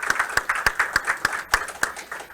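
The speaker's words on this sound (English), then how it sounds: "Everybody give yourselves a round of applause." A handful of people clapping close by, with individual loud claps in an uneven rhythm over a couple of seconds.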